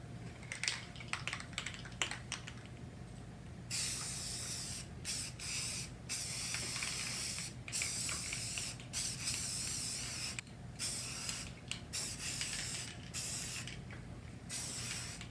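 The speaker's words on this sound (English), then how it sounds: "Once you spray the primer, you need to let it set for anywhere from 30 minutes to an hour." A spray can puts primer onto Jeep exterior parts in repeated short, close hissing bursts separated by brief pauses, with faint clicks and handling noise between sprays.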